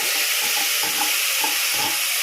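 Steady hissing sizzle as ground tomato is poured into frying onions for a fish curry, with soft wet bubbling pulses underneath, close and continuous without any talking.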